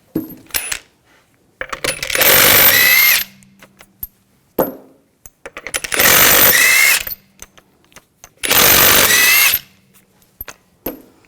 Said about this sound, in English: We're going to remove the wheel, use a 19mm socket. Take the lug bolts off.